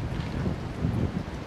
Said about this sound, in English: because it's windy as hell,